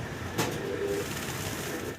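A pair of big fancy Mundian pigeons coo softly in the background under a steady hum, with one brief, faint cooing phrase.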